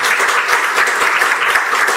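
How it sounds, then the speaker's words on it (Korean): A church congregation at a Sunday worship service breaks into warm applause to welcome visiting members, a brief, even burst of many hands clapping together. "박수로 한번 환영하겠습니다."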